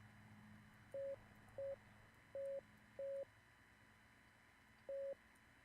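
Clean electronic Morse code beeps from a video game, five tones of short and longer lengths spaced irregularly, alone over a faint hum.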